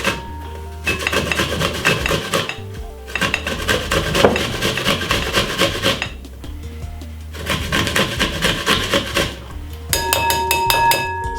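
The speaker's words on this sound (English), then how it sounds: "So once you grate your apple and your carrot, that's it" Green apple rubbed against a kitchen grater in repeated scraping bursts, three long rasping passes separated by short pauses, close and fairly loud, with background music underneath.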